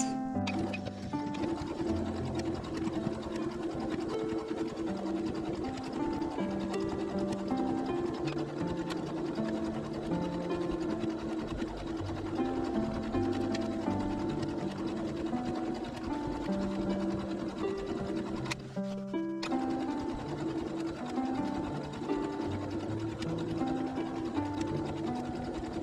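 A sewing machine stitches fabric for a tuck bag, a steady rapid mechanical whirring with rhythmic needle clatter running close and continuous, pausing briefly near the end before resuming, with no talk.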